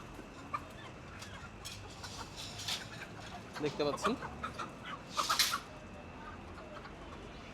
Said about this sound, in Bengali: এখান থেকে কিন্তু মুরগি নামানো হচ্ছে।